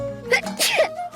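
A single sharp sneeze bursts out in an indoor scene from a Tamil television serial, brief and close over a faint background hum.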